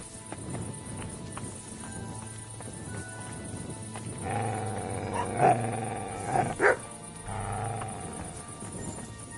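A scolded mutt barks in a few short, sharp bursts around the middle, moderately close, over a steady background hum with no talk.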